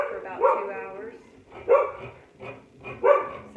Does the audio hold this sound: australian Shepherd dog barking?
yes